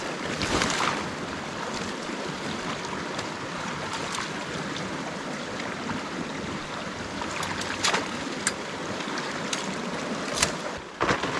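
Steady broadband rush of water pouring and churning through an opened beaver dam, continuous and fairly loud, with a few sharp splashes and clicks near the end.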